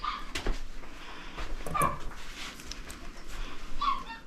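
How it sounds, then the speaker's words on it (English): A dog barks and whimpers outside a grooming room in a few muffled, distant outbursts over a constant low background hum. "That hear Jude outside barking"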